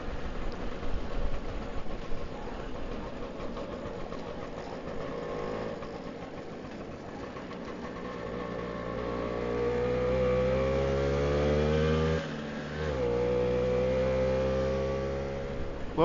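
A 1962 Lambretta Li 150 Series 3 scooter's small two-stroke engine drones steadily while riding, pitch climbing as it accelerates, briefly dipping around a gear change, then pulling again, loud and close.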